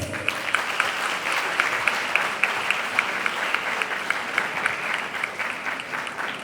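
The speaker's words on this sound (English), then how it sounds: "A huge round of applause to Mr. Fleming Joseph." A conference audience of CA students gives loud sustained applause to a competition winner, a dense steady clatter of many hands with a few sharper rhythmic claps standing out near the front.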